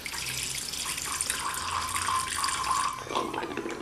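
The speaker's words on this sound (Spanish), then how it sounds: "le echamos un poquito de agua destilada." Distilled water is poured in a steady, close trickle into a container for a geology cave-formation experiment, a continuous splashing flow lasting a few seconds and tapering off at the end.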